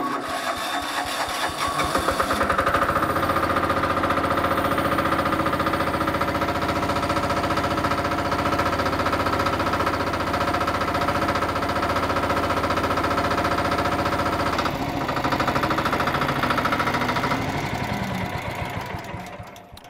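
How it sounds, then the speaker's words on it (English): A road compactor's engine idles steadily while warming up before water is added for compaction work, a loud continuous mechanical drone with a rapid knocking rhythm that holds for nearly twenty seconds with no voices. "you need to start it and you let it, or you let the engine oil to access all the parts of our engine."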